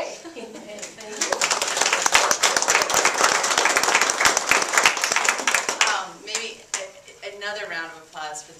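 Museum audience at an art talk breaking into a burst of applause that builds quickly and holds steady with sharp individual claps, then fades out as a voice begins speaking.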